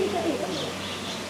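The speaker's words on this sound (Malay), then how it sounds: "Semua mengambil peluang untuk memberi makan burung-burung." Pigeons coo softly amid a steady outdoor background while being fed in Langkawi, with faint low calls repeating over about a second.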